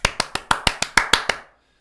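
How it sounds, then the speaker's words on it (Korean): One person claps hands nine times in a quick, steady rhythm, each clap sharp and close with a short ring, then stops into near silence. "박수 한번 치겠습니다"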